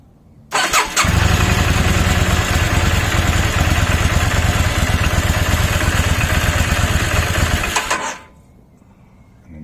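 A Yamaha XVS650 Dragster motorcycle engine starts and runs steadily at a loud, close idle with a rapid, pulsing V-twin throb, then cuts off abruptly near the end, with no talking.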